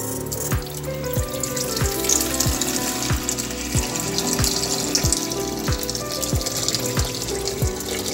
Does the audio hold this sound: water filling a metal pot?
yes